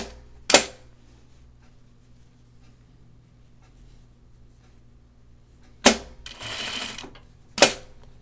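Sewing machine stitching a shoulder seam on a shirt dress, three short loud bursts of rapid stitching separated by long quiet stretches of low hum, the middle burst longer, close by, no talk.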